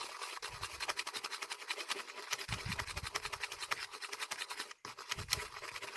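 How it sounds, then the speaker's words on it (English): Small mixing stick scraping and stirring paint in a little container, a quick rhythmic scratchy rubbing close up, repeated strokes with brief pauses, fairly quiet with no talking. "mix it up with a little mixing stick"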